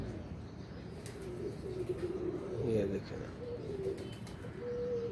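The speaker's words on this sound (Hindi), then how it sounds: "ये देखें 4-5 कबूतर इकट्ठे ही आए हुए हैं" Four or five pigeons settled together coo softly in a low continuous murmur, with a voice talking over them.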